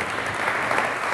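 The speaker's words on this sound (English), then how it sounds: "A big round of applause." Conference audience at a Singapore event applauds as a speaker comes on stage, a loud, dense, continuous roar of clapping filling the room.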